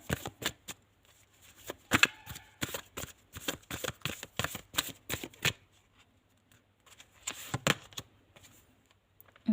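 Tarot cards being shuffled by hand in a quiet room, a long run of crisp riffling snaps in quick bursts, a pause, then a few more shuffles near the end.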